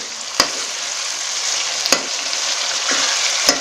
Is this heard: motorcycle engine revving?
no